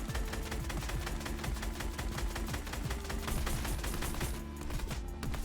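Rapid automatic gunfire from a player spraying bullets in a shooter video game, a dense unbroken stream of sharp loud shots in fast regular rhythm lasting the whole stretch, with no voices.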